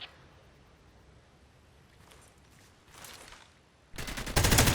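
Gunfire in the shooter game Hired Ops comes in short distant bursts, swelling into loud rapid automatic fire at the end.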